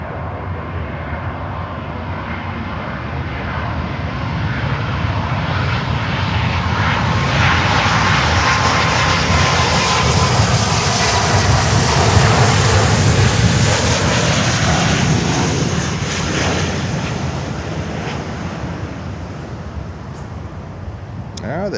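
An American Airlines Boeing 777 at Miami airport, its jet engines roaring loud and close. The roar builds steadily, peaks for several seconds and then slowly fades, with a slight breeze in the background.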